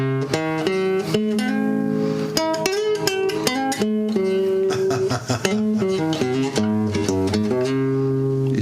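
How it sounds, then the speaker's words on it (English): Sustained melodic passage played on a pitched instrument, stepping through a musical scale with rich harmonic tones, steady and loud from start to finish, with no voices over it. "The leftovers of the Muslim scale sound like this."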